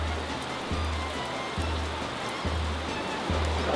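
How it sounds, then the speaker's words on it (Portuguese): Heavy rain pours steadily in a small town square, a dense, loud hiss that fills the space, with a low rhythmic thumping pulsing underneath at regular intervals. "A chuva lascou, né?"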